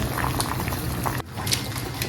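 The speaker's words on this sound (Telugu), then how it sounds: "మొత్తం క్యాలీఫ్లవర్ అంతా బాగా బాయిల్ అయిపోవాలి" Cauliflower boiling in a pot of water gives a continuous bubbling, gurgling churn close by, with a brief dip in the middle before the rolling boil resumes.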